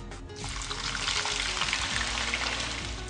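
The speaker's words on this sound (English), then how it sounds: "Now we're going to put the onion and the potatoes inside the pan." Onion and potatoes for a Spanish omelette hit a hot oiled frying pan, setting off a loud, steady hiss and crackle that swells after a brief start and carries on evenly throughout.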